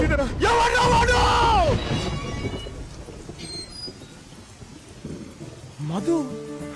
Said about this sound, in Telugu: ఏంటమ్మా ఇంత వర్షంలో?